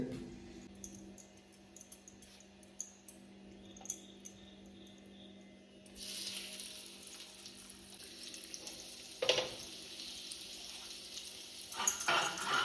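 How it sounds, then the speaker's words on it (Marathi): Marinated fish frying in a pan at home, first a low, quiet sizzle that swells into a loud, dense hiss of hot oil partway through, with occasional crackles and pops, close up and without talk. "आता पटपट आई फ्राय करून घेते मच्छी"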